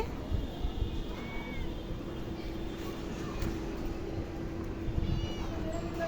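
A cat meows faintly a couple of times against a low, steady background hum.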